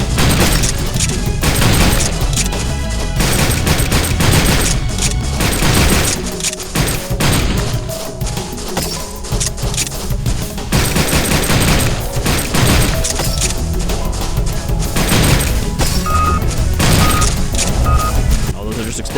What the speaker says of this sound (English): So that's what the flame grenade does. It just explodes in a line ahead of you.